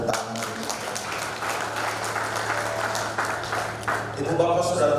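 Guests at a wedding service applaud, a steady crackle of many hands clapping that swells slightly toward the end, with a voice speaking over it.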